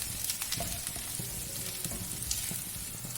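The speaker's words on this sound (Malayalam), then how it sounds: "ആ സമയത്ത് ഇതിലേക്ക് നമുക്ക് ഉള്ളി ഇടാം." Onions going into a hot pan and frying, a steady close sizzle with occasional stirring scrapes, heard alone.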